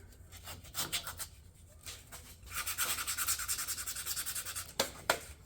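Hand sanding of a scuffed, curb-rashed alloy wheel rim with a strip of 100-grit sandpaper, giving bursts of close, rhythmic scratchy rubbing strokes, a sustained run in the middle and two sharp scrapes near the end.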